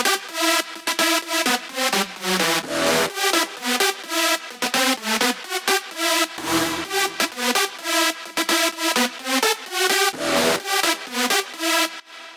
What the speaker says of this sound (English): I've added a few drop stabs to hit on certain accents throughout the drop.